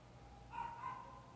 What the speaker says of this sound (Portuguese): Tem um cachorro lá fora, né?